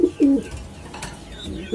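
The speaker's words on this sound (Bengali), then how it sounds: "কবুতর দুইটা দেখেন ভিউয়ার্স, মাশাআল্লাহ খুবই চমৎকার কবুতর।" Teddy pigeons of an Oman bloodline coo softly at close range, a low throaty coo near the start followed by fainter murmurs, with no talking.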